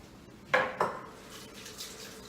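Brief splash of running tap water over hands in a kitchen during bread making, two short scrubbing bursts close by, then a soft steady trickle.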